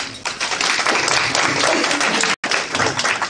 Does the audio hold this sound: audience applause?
yes